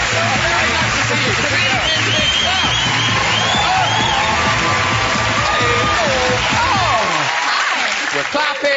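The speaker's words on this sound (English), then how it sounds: "We're clapping, we're cheering, it's lovely." Loud, sustained applause and cheering from a TV chat-show studio audience, dense clapping with whoops and yells filling the room for about seven seconds before cutting off abruptly.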